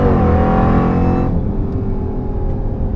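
A 1,000-horsepower Jeep Grand Cherokee daily driver roars loudly and close, its engine note dropping away sharply after about a second as the driver lifts off, leaving a lower rumbling drone.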